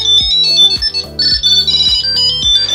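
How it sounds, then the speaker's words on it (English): A 2022 Tile Mate Bluetooth tracker rings its find alert, a loud, bright repeating electronic melody of quick chirping tones in a steady pattern, close up and with no talk over it. "hit the find button, and in a second or two it will start ringing and you'll find your tile in no time."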